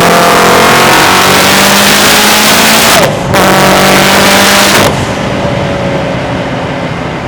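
A Subaru STI making over 800 wheel horsepower on a dyno run, its engine roaring very loud and close as it climbs through a slow ramp, with two abrupt cuts in the sound before the note drops after about five seconds.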